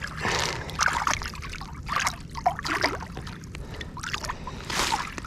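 A freshly caught pan-sized snapper is rinsed in seawater beside a mangrove island, giving irregular splashes and trickling drips, fairly close and with no talk.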